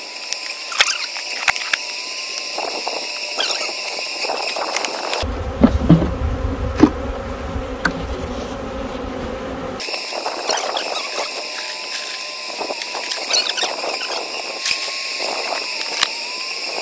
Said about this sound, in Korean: 아직도 꿀벌들이 다시 나무로 가고 있죠